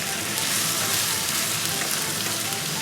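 Chicken sizzles steadily in a pan over medium-high heat for a karhai masala, a continuous broadband frying hiss that stays even and close throughout with no talk.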